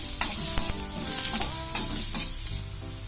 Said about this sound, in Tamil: கேரட் ஒரு 50 கிராம், நம்ம நெய்யில நல்லா வறுத்துக்கலாம் கேரட் பீன்ஸை